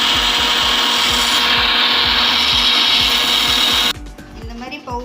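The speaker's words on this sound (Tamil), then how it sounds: "மிக்சியில் போட்டு பவுடர் பண்ணிக்கலாம்" Mixer grinder whirring steadily as it grinds roasted black urad dal into powder, loud and continuous with rhythmic low thumps, then cutting off near the end to quieter rattling.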